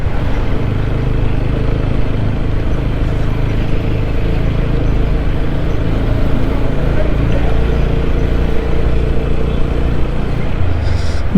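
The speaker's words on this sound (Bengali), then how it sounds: "বাইক রাইডে" A motorcycle on a mountain road toward Darjeeling, its engine a steady loud drone with wind rumble throughout, heard from the rider's position.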